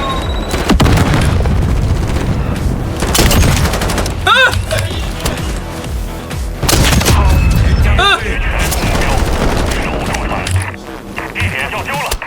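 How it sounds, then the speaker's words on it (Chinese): Artillery strike explosions in a Call of Duty game: loud, dense booming blasts and rattling gunfire fill the scene continuously, with repeated heavy impacts over a rumbling low end. "我方部署炮击信标"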